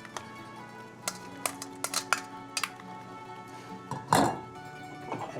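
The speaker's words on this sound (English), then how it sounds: "So we'll take our noodles and put them in the saute pan." Noodles being dropped into a metal saute pan in a kitchen, a series of light clinks and taps followed by one heavier clattering thunk, close and otherwise quiet.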